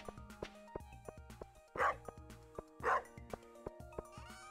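A dog in the farming game Stardew Valley barks twice in short, loud yips over a steady game music bed, with no voices.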